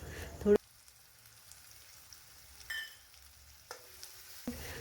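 Spices and tomatoes fry softly in a pan for gathiya shaak, with a quiet low sizzle broken by a few sharp spoon scrapes and clinks as the mixture is stirred.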